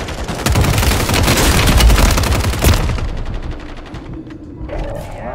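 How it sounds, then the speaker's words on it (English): A dense barrage of airstrike explosions and gunfire in Call of Duty Warzone rumbles loud and close for about three seconds, then breaks off into quieter scattered game sounds. "I got an airstrike"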